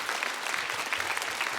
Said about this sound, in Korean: 목사님 나오실 때 우리 하나님께 감사의 박수 올려드리겠습니다.